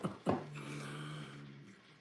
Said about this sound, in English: My dog's snoring, by the way